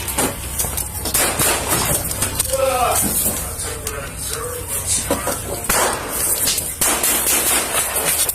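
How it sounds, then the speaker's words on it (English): Gunfire traded between people inside a house and a police officer outside, a dense loud barrage of sharp cracking shots in rapid irregular bursts throughout, with a voice heard among the noise. "The firefight erupts in full as rounds go back and forth from inside the house and from the officer who made it away"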